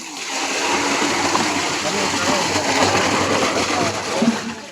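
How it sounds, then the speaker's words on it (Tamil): Water splashes and gurgles steadily as it is poured into a homemade organic fertilizer mix, with people talking over it. "தண்ணி கொஞ்சம் ஊற்றுங்கண்ணா"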